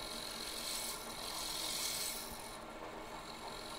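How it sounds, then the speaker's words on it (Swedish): A wood-turning tool scrapes across the top of a spinning wooden box lid on a lathe, giving a faint, continuous rasping hiss that swells and eases slightly over a few seconds. "Nu formar jag till översidan på locket."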